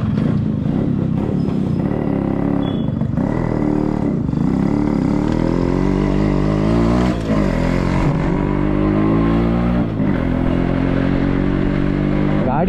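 Yamaha RX motorcycle engine with a pickup problem revving repeatedly, close and loud with rising and falling throttle blips, while a voice talks over it.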